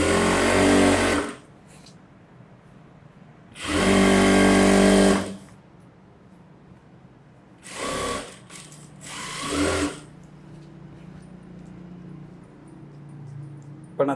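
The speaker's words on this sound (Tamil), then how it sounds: "பக்கத்தில் கனெக்ட் பண்ணி தையல் போட்டுடலாம்" A sewing machine stitches the lining of a chudithar in short bursts, with loud rapid runs separated by quiet pauses of faint room noise, close by and with no talk over it.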